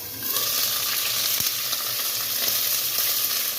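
Green chillies fry in hot oil with a dense, bright sizzle and a few sharp pops, as for a tomato chutney. The sizzle is close and continuous, with one distinct crack early on.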